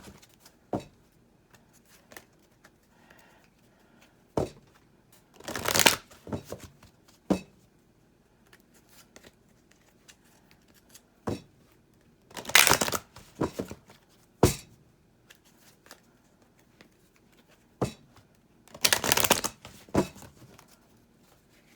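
A deck of Romance Angels oracle cards is shuffled in several short riffling bursts spaced by quiet pauses, with scattered light taps and card handling in between, close and fairly soft.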